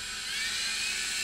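Small toy remote-control helicopter rotor whirring steadily at close range, a high, even motorized whine with no voices over it.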